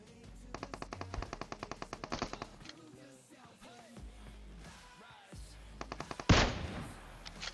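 Rapid bursts of gunfire from a sniper-only match in a mobile battle royale game, with quick repeated shots early and one louder blast near the end over game effects and background music.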